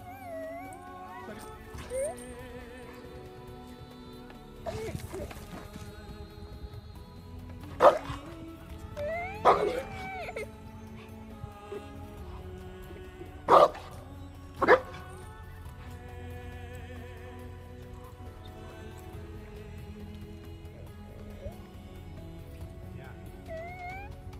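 A Cane Corso dog whimpers and whines at length, with several sharp, loud barks breaking in around the middle, all under a low background hum.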